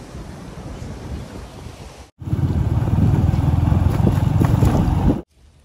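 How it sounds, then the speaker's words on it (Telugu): Water from a rain-filled village lake pours over a newly built bridge in a steady, loud rushing roar, briefly cutting out once and then returning stronger before stopping abruptly. "సో దీని మీదకి అయితే నీళ్ళు వెళ్తున్నాయి"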